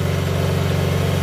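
A car engine runs steadily after a Blazer engine swap, a loud, even idle with a constant low hum and no voices.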